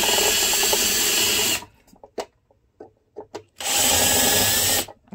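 A power drill bores out rivets inside a Blue Bird Wanderlodge coach, two loud whirring bursts of a second or so each separated by quiet clicks and handling knocks, close and dry.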